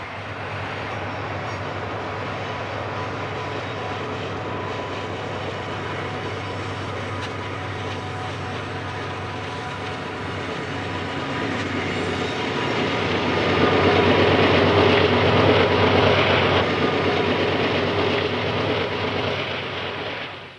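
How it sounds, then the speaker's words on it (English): General Electric diesel freight locomotives with four-cycle engines roll past on a steep mountain mainline, a steady loud rumble of engines and rail cars that swells to a peak midway and holds near, with no talk. "The 4-cycle diesel motors in these General Electric locomotives have a completely different sound than all the General Motors built locomotives"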